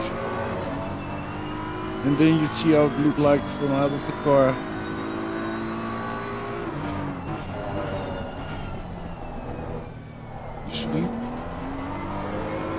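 A BMW race car at Imola in Assetto Corsa Competizione, heard from the passenger seat, its engine droning and rising through gear changes, with someone talking over it.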